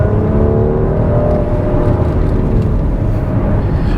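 A Mercedes-AMG GLC43 engine accelerating in Sport Plus mode, a loud, steady low growl and whir heard from inside the car, holding constant throughout.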